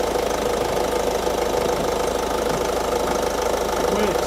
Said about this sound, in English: Check for the cycling of the compressor, which it is.